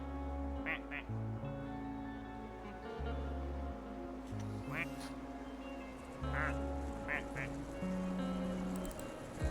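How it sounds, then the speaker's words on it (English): Rubber ducks quacking in the video game Placid Plastic Duck Simulator, several short quacks and honks scattered over a low game music bed, with a person talking quietly throughout. "for the most part they make like normal duck sounds"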